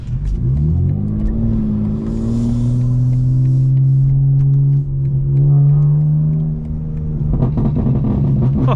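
A tuned 800-horsepower 2025 BMW M4 running on ethanol accelerates from the cabin, its engine note rising through a long pull, a brief gear-change dip, then another strong climb before easing off.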